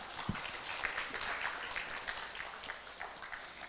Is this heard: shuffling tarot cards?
no